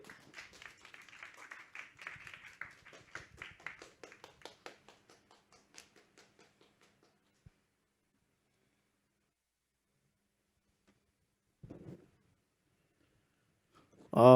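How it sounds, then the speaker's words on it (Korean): An audience at a metaverse conference session claps to welcome two music performers on stage; the scattered, fairly quiet applause lasts about six seconds and then fades into near silence, broken only by a brief soft noise near the end. "큰 박수로 맞아주십시오."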